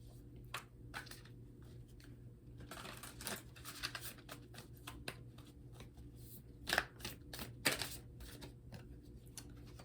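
Spirit animal cards being handled and shuffled during a tarot reading, soft papery riffles and taps scattered over several seconds, close and fairly quiet, with a steady low hum underneath.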